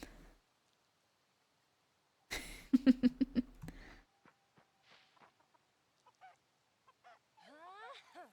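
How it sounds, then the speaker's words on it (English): A chicken in the video game Fae Farm gives a quick run of loud, clucking honks, followed by fainter scattered game chirps and sound effects, with no talk over it. "It's a chicken!"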